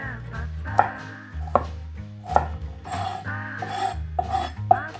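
Carrots chopped into cubes on a cutting board for lugaw, a knife striking the board in a series of sharp, irregular knocks over steady background music.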